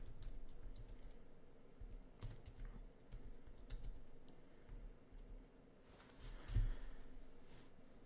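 Soft, quiet keystrokes on a computer keyboard as a Google search for framework laptops is typed, a loose run of light taps with low background noise and no talk.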